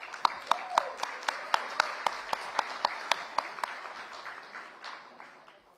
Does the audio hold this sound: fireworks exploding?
no